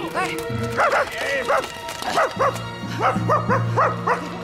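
A dog barks and yips in quick, excited bursts close by, with a low steady hum running underneath.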